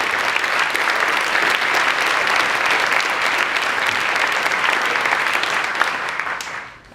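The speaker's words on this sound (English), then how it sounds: "So could we do another round of applause?" Dense, steady clapping from a conference keynote audience, loud and continuous for several seconds before fading out at the end.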